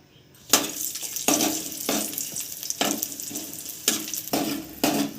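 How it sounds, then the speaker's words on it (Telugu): Cashews and raisins frying in ghee in a pan, a steady sizzle that surges in repeated bursts as they are stirred, close and fairly loud with no talk. "నెయ్యి, జీడిపప్పు, కిస్మిస్ వేపుకోవాలి."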